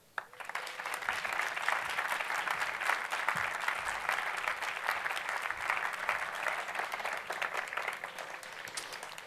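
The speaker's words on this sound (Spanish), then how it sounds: "Les pido que reciban con un caluroso aplauso a don Juan Martínez." An audience at a book presentation marking 50 years of history gives warm, sustained applause, a full steady wash of clapping that starts abruptly and holds evenly throughout.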